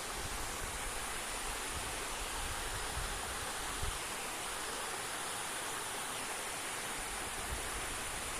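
A waterfall cascading down in three steps gives a steady, even rush of falling water, a constant broadband roar heard at a moderate distance with no voices.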